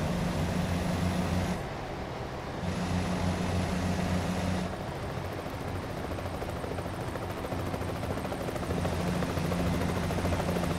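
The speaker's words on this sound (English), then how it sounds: "That might be the emergency helicopter for us." Steady helicopter rotor drone in American Truck Simulator, a low rhythmic thump, continuous and fairly loud throughout, its tone briefly dipping and shifting as if passing or changing distance.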